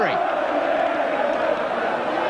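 A football crowd at Arsenal v West Ham in a 1989 FA Cup replay roars in a loud, sustained collective groan and shout after a near miss, the massed voices swelling steadily for the whole stretch.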